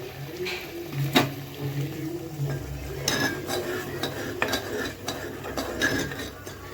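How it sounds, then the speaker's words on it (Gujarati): Green chickpeas are added to a pan and stirred, giving repeated scraping and clinking strokes of a utensil against the metal, close up with a faint cooking hiss beneath and no talking. "હવે આપણે એમાં નાખીશું લીલા ચણા."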